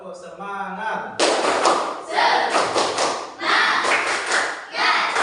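A school class claps a rhythmic spirit clap in bursts of sharp, loud hand claps and thuds, starting after a brief spoken line and continuing in grouped patterns.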